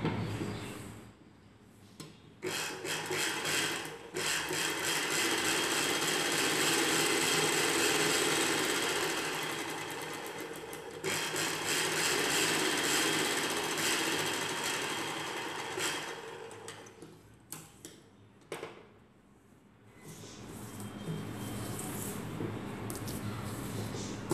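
A sewing machine stitching the sleeve hem of a girl's night dress, running in steady, fairly faint bursts of whirring with short pauses between them and no talking.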